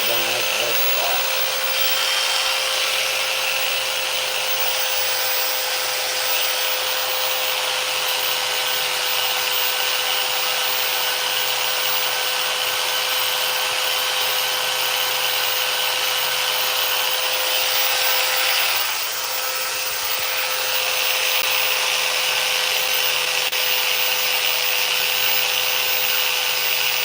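Chainsaw carving a wooden Steve figure from Minecraft, a steady loud engine drone running continuously with a brief dip near the end.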